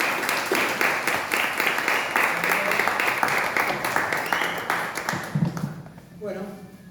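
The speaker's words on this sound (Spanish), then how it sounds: "Así que pido un fuerte aplauso para ambos." An audience at a community sports club talk gives a sustained round of applause for the speakers, dense clapping that fades out near the end as a voice starts.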